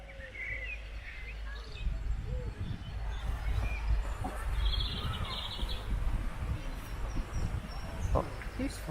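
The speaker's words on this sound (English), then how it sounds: "nice bird is singing, isn't it?" Birdsong in a riverside park on a sunny day, scattered chirps and short phrases at moderate distance over steady outdoor rumble and footsteps.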